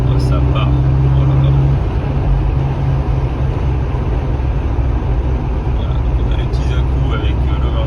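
Toyota Supra 3.0 turbo mk3 accelerating, a loud steady engine drone with road rumble heard from inside the car, with talk over it.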